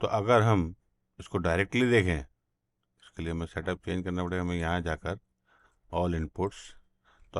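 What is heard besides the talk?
No distinct noise like a dog, phone or traffic.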